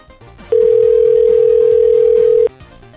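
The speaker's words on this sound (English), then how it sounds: "that phone was ringing a billion times just now" A telephone line gives a single long, loud, steady tone lasting about two seconds, then cuts off. Quieter background sound is heard before and after the tone.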